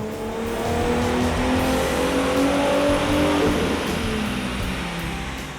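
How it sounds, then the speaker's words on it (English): A loud 2005-09 Ford Mustang V6 engine with a cold air intake revs steadily upward through the gears on a dyno and holds high RPM before easing off, continuous and close. "Now let's make another dyno run and see what kind of horsepower and torque numbers we get"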